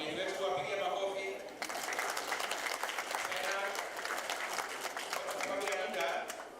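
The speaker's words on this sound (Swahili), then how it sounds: "wapigie makofi" An audience at a polio vaccination campaign launch breaks into sustained applause, a dense crackle of many hands that runs the whole time, with voices murmuring under it at the start.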